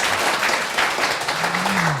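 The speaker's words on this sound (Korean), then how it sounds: "일단 잠깐 박수 쳐드리고요." An audience applauds a government minister at a seminar on industrial digital innovation, a dense steady clapping sound that fills the short moment, with a faint voice underneath.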